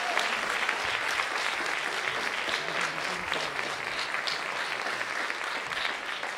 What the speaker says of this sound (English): Let's give all of you another round of applause.